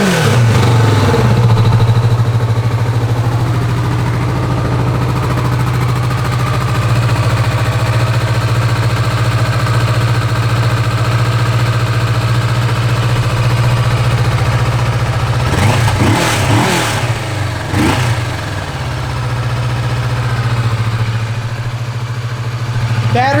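A 2016 Kawasaki Vulcan S motorcycle engine idles steadily and close by with a low, even hum, after a start on a slightly weak battery in freezing weather, then several short, sharp throttle blips near the end.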